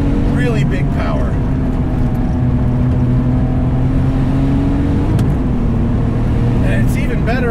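A 515 hp RUF 996 RTurbo with a roll cage pulls hard through third and fourth gear, its engine a loud, sustained roar with a steadily rising pitch and a brief dip at a shift, heard from inside the car.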